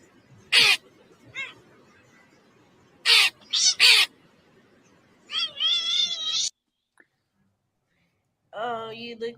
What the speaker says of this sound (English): Cats are hilarious.